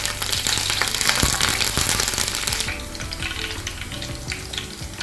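Curry leaves and sliced green chillies frying in about four tablespoons of hot oil in a pan, giving a loud, dense crackling sizzle that eases to a steadier, quieter spatter after a few seconds, with no voices.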